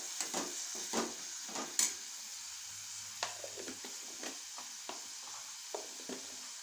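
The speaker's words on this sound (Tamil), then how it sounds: "வத்தல் பொடி போட்டு நல்லா வதங்கட்டும் வெங்காயம்." Onions sauté in a pan with chili powder and turmeric, soft intermittent sizzling broken by scraping stir strokes of a spatula, close and fairly quiet, with no talking.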